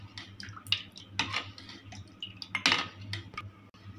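A spoon clinks and scrapes against a glass while mixing four spoonfuls of green khus sharbat, with quick irregular taps and stirring close by over a low steady hum.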